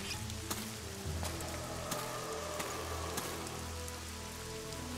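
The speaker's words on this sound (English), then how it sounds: "this cutscene has never happened in the rain before" Steady rain falls and patters on surfaces during a cutscene in the video game The Witcher 2, a dense continuous hiss with scattered sharper drop ticks, heard alone without speech.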